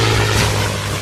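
A propeller airplane's engine roars close and loud, a steady droning rumble with a strong low hum that eases slightly toward the end, with no voices over it.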